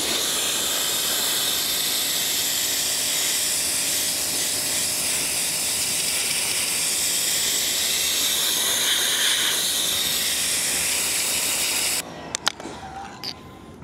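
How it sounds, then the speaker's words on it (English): A pressure washer blasts mold off the paintwork of an old, 45-year-old patina truck: a loud, steady spray hiss runs unbroken for about twelve seconds, then cuts off, leaving a few faint knocks and handling sounds. "and then pressure wash it, try to get that off of there."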